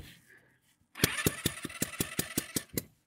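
A scooter engine starts and is revved by hand during a compression test, giving a close, loud run of about ten evenly spaced sharp pulses after a quiet opening.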